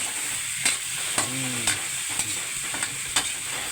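Three large tomatoes frying and being stirred in a pan, a steady close sizzle with sharp scrapes of the spoon every half second or so, no talking.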